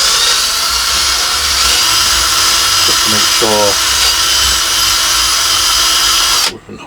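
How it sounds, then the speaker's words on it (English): A power drill enlarges a hole during a thread graft on a tree, whining steadily and loudly from close by for several seconds before cutting off, with a brief spoken remark partway through. "I'm going to just drill the hole out a little bit bigger now,"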